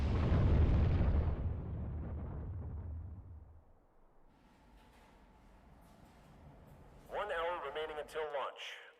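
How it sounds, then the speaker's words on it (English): Big booming explosion in the video game Ace Attorney: Dual Destinies, a loud rumbling blast that decays over several seconds, followed by quiet game sounds and a burst of chirpy dialogue blips near the end. "that wasn't the part that was supposed to explode"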